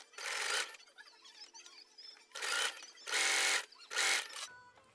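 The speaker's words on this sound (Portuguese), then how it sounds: "Vou levar lá pra trás e vou começar a costurar fazendo toda a volta" Domestic sewing machine stitching fabric around the edge of a small waterproof pouch for cloth sanitary pads, heard as four separate bursts of steady mechanical whirring with quiet pauses between them while the piece is turned.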